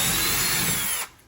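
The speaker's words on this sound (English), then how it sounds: "going to go ahead and drill into where the holes are marked" A power drill bores into a wooden wall stud while mounting a Level 2 EV charger, a loud, close, continuous whine that cuts off abruptly near the end, with no talking.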